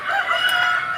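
A rooster crows in one sustained, loud, close call that fills the short moment on its own.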